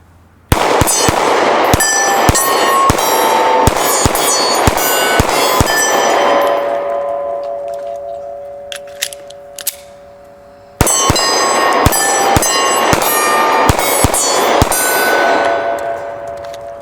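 Rapid strings of sharp Sig P365 pistol shots fired at close targets on an outdoor range, loud and evenly spaced bursts with ringing metallic clangs of hits and a pause between two volleys.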